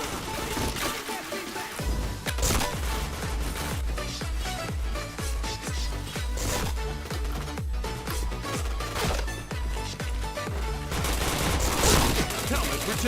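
Gunfire in the online shooter PointBlank rattles almost without pause, with rapid automatic bursts and sharp single cracks layered over game sounds, close and loud, with faint talk mixed underneath.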